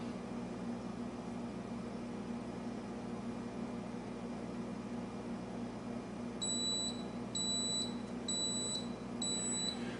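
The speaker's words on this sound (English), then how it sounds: "Press the green button to silence the alarm." An electronic brewing boil timer alarm beeps in a repeating series of short high double tones over a steady hum, starting partway through and continuing to the end.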